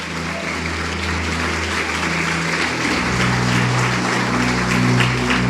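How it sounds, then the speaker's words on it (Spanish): A church congregation applauds the Lord during a sermon, steady clapping over a low sustained musical drone from keyboard or organ. "Aplaudirle al Señor."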